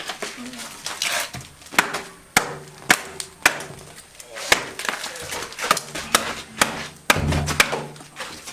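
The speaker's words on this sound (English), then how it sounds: "This is a traditional way of cracking a firewood" Firewood is cracked outdoors in Karbi Anglong by a traditional method without an axe, with sharp wooden cracks and knocks repeating every second or so. People talk throughout and birds call faintly.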